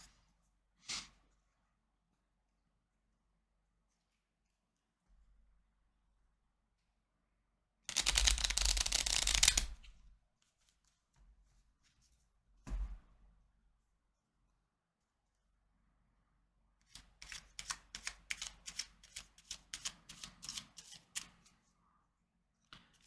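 Tarot cards are shuffled in short bursts between quiet gaps: a few single taps, a dense riffling flurry, then a rapid run of crisp card flicks near the end.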